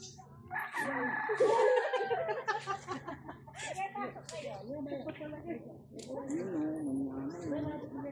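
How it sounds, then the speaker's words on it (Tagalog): A rooster crows amid chickens clucking, with people talking over the birds throughout. "Manok lang nga."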